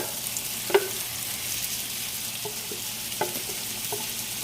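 Shrimp fries in a pan of hot oil with garlic and sun-dried tomato, giving a steady close crackling sizzle with a few sharp clicks and pops of utensils, no talking.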